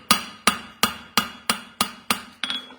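A steel horseshoe struck with a hammer on an anvil during a Mustad farrier demonstration: eight sharp, ringing blows at a steady, even rhythm, loud and close, the last one followed by a quick double tap.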